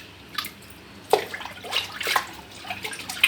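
A baking powder and vinegar mixture is poured out for washing vessels, giving close, scattered splashes and drips that come in a few separate bursts, with no talking.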